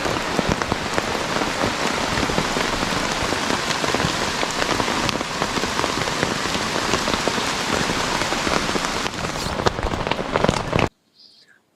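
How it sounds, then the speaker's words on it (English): Steady, dense rain patters on a tent at a campground in the Appalachian mountains on a rainy morning, a continuous close hiss of drops with no voices, cutting off abruptly near the end. "here's the sound of the rain in the tent"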